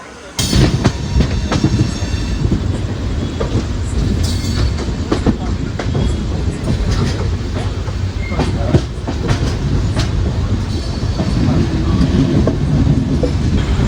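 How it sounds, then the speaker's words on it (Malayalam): A Nagercoil Gandhidham Express sleeper-class train rolls into Shoranur Junction station, loud wheels clattering rhythmically over rail joints with metallic clicks and faint squeals, heard from inside a carriage with some background voices. "ഷൊർണൂർ ജംഗ്ഷൻ റെയിൽവേ സ്റ്റേഷനിലേക്ക് നമ്മൾ കയറുവാണേ"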